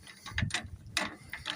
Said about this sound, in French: après vous avez la manivelle, c'est pour soulever la roue